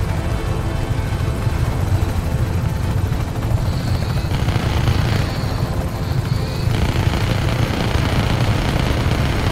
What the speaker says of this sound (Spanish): tengo un helicóptero ahí dándome por culo